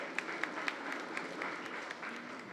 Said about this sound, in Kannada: ರಾಗ ತರಂಗಕ್ಕೆ ನಿಮ್ಮೆಲ್ಲರ ಚಪ್ಪಾಳೆ ಸಲ್ಲಬೇಕು